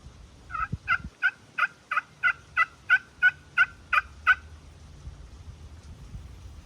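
A wild turkey in Kentucky gobbles in answer to a hunter's call, a run of about ten evenly spaced rattling gobble notes heard clearly at middle distance in quiet woodland, followed by faint rustling and no voices.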